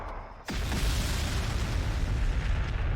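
Frag missile explosions in Warhammer 40,000: Sanctus Reach, a brief quiet moment broken by a sudden loud blast that rolls into a continuous heavy rumble.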